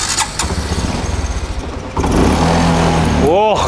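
A person talks over an old motorcycle engine that cranks a few times, then catches and settles into a steady, close, rumbling idle.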